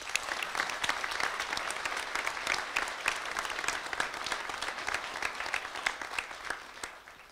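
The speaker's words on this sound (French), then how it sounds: "On peut vous applaudir." Audience applause in a French municipal council chamber during an extraordinary session for the Bravades 2024, sustained lively clapping from a crowd with many distinct sharp claps standing out, close and even for several seconds.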